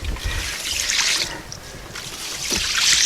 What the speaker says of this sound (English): it might sound like a river running